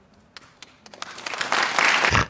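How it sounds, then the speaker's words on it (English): Audience applause on a reality-dating reaction show, starting with scattered claps and swelling into a dense, loud wash of clapping toward the end, with no talk over it. "Applause."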